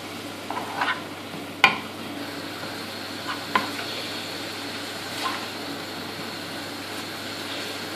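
Food being mixed in a frying pan, a soft continuous sizzle under a steady low hum, with a few sharp clinks and scrapes of the utensil against the pan.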